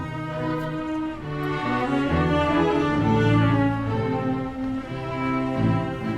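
An orchestra plays a sustained symphonic passage, strings and winds moving through full harmonies at a steady, moderate volume.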